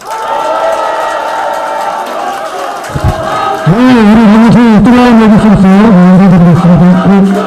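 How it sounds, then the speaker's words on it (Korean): A crowd at a campaign office opening in Incheon rallies for candidate Park Nam-chun, a murmur of noise breaking into loud, rhythmic, unified chanting and cheering voices that carry on strongly to the end. "우리 박남춘 후보 응원의 박수 한번 부탁드립니다"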